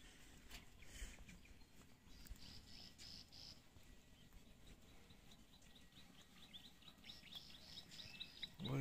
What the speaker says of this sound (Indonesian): Wih, suara burung-burung.